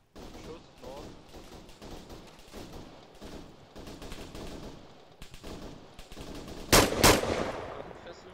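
Rapid gunfire crackles through a noisy game soundscape during a 32-player Zeus event, ending in a couple of sharp, loud shots near the end; voices talk underneath.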